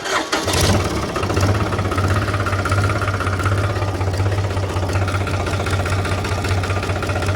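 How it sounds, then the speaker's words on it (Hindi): Tractor engine cranks and catches, then settles into a loud, steady, low diesel idle close by with a faint knocking rhythm. "चालू करें ट्रैक्टर से"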